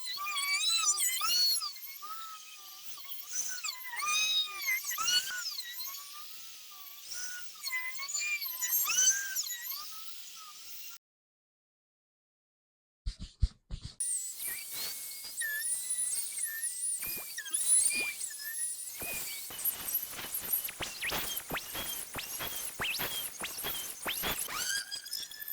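A router fitted to a modified base plate in a wood-flattening jig whines steadily at high pitch as it cuts across a board. The whine pauses briefly, then resumes with the cutter bit biting and wavering, with no talk.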